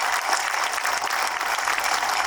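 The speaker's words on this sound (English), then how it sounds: "please give another round of applause for all those community members that were engaged" A crowd at the grand reopening of a city park applauds community members, a short, steady, bright patter of many clapping hands with no pause.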